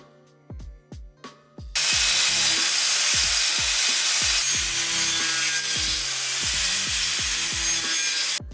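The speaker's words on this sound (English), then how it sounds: "this is the result after just a few minutes of carving with the angle grinder" An angle grinder carves wood for a teddy bear sculpture: after a few sharp knocks it starts and runs as a loud, continuous abrasive roar, with dull thuds underneath until the end.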